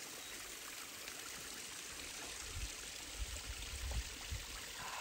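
Cold plateau spring water runs steadily in a soft, continuous stream with a faint trickle, heard at moderate distance beside a hazelnut orchard, with a few low thumps near the end and no voices.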